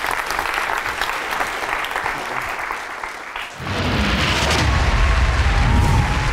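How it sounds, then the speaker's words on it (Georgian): Studio audience applause for a quiz show contestant, a steady wash of clapping that swells louder and fuller midway and keeps going to the end. "აპლოდისმენტები გუგას."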